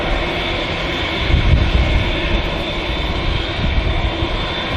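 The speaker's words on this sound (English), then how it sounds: "Qatar 787 Dreamliner heading back to Doha." A Qatar Airways Boeing 787 Dreamliner makes a heavy departure from Manchester Airport toward Doha, a loud, continuous engine roar with rumbling low-end swells, close and steady, with no talk over it.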